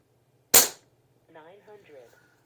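A single sharp, loud shot from a regulated Umarex Gauntlet 2 air rifle, decaying quickly, followed a moment later by a brief spoken voice.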